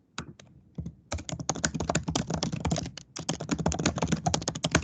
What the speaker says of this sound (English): I'm just typing up some notes here.